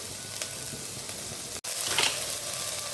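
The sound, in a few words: frying paste of dried chilli, cumin, ginger, garlic, onion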